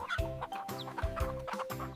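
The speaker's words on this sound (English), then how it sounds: "One by one, the chickens find their new safe haven." Chickens on a farm cluck in short, close bursts of several notes in a row, lively and near, with no talking.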